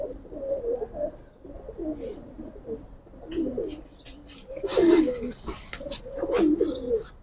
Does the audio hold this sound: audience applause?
no